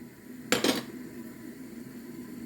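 A metal lid clanks onto a cooking pot of pasta and sauce in a home kitchen, a short close double clatter followed by a quiet simmering background.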